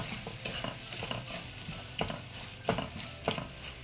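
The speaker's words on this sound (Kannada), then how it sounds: "ಒಂದು ಐದು ನಿಮಿಷ ಚೆನ್ನಾಗಿ ಎಣ್ಣೆನಲ್ಲೇ ಬಾಡಿಸ್ಕೋಬೇಕು ಮಾವಿನಕಾಯಿನ" Steady sizzling of green mango frying in oil, broken by a few sharp scraping strokes of a spoon stirring the pan.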